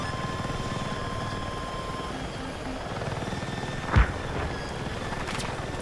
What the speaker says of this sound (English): I think that was a helicopter.